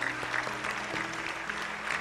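A congregation at a Korean prayer meeting claps in sustained, even applause, a dense wash of hand claps filling the room at moderate volume for the whole stretch.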